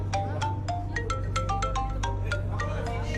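A mobile phone rings in a room with a repeating electronic melody of short bright tones, steady and moderately loud over a constant low hum.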